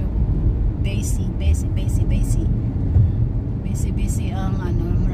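Busy road traffic in Doha, heard as a dense, continuous low rumble of many passing cars, with a voice talking over it at intervals.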